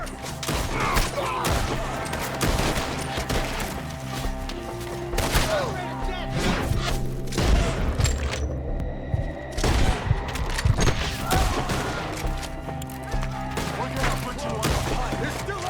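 A gunfight in the video game Red Dead Redemption 2, with rapid overlapping rifle and pistol shots, booming thuds and echoing cracks, loud and close, while characters shout over the shooting.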